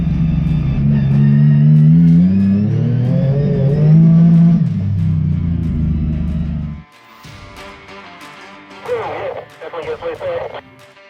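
Race car with traction control off accelerating hard out of a corner, a loud sustained engine roar under someone talking over a radio, then cutting to quieter, uneven bursts of engine noise.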